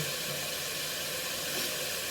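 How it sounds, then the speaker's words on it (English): Chicken frying in hot oil gives a steady, close hiss that stays even and unbroken throughout, with no voices over it. "Now you hear that chicken frying good?"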